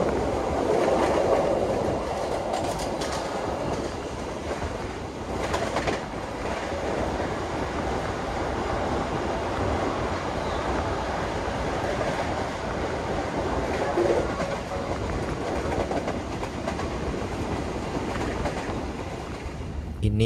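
Argo Dwipangga New Generation express train running on the Jakarta–Solo line, heard from inside the carriage: a steady, continuous rumble with faint rhythmic clatter of the wheels throughout, with no talking.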